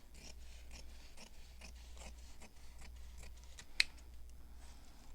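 Scissors cutting fabric for a hand-stitched slow stitch project, producing a steady run of faint, close, crisp snipping cuts in an even rhythm over a low background hum.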